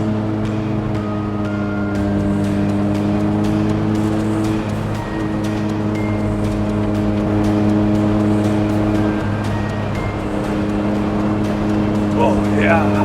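A 1998 Daihatsu Hijet Super Jumbo mini truck is driven hard around corners, its small engine droning steadily loud and close, pitch shifting up and down through gear changes, with people talking over it.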